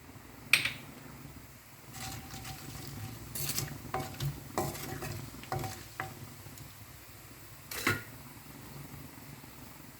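Fennel seeds and other whole spices hit hot oil in a pan for chicken varuval, giving scattered sharp pops and crackles over a low, steady sizzle, close by.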